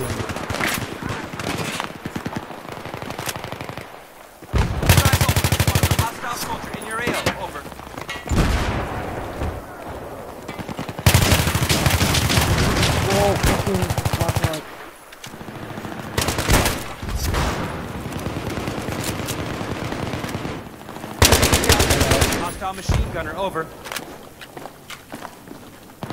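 Gunfire in the video game Battlefield 3 on the Noshahr Canals map, with loud, close bursts of rapid automatic shots broken by quieter stretches of footsteps and movement.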